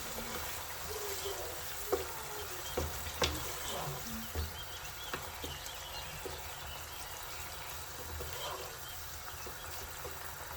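Tomatoes with whole spices sizzling in a pan for a chickpea Kabuli pulao, a steady low frying hiss with a few soft clicks and stirring taps.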